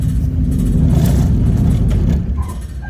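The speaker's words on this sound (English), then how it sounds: "This motor's sounding like it might have a little tick." Vehicle motor idling loud and close with a steady low rumble, a slight tick suspected in it, running alone for a few seconds before easing off slightly at the end.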